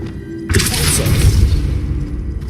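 An Expulso explosion spell in Hogwarts Legacy goes off as a sudden loud blast with a crackling, shattering burst and a rumbling tail lasting about two seconds.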